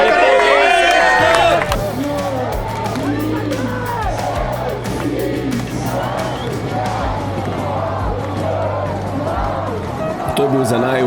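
A roadside crowd at the start of a cycling stage cheers and calls out in a dense, continuous din, loud and close, with people talking nearby and occasional claps.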